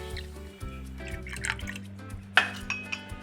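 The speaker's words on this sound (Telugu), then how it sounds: "ఈ కలుపుకున్న కార్న్ఫ్లోర్ అంతా దీంట్లోకి వేసుకోవాలి." Cornflour slurry poured into a pan for coconut pudding, a soft liquid trickle and drips with a couple of sharp utensil clinks against the pan, close and fairly quiet.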